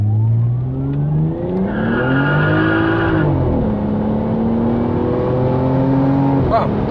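Toyota Cresta JZX90 Tourer V pulling hard to 100 km/h, its engine note climbing steadily through the gears with a brief shift break, loud and close from inside the car with no talk.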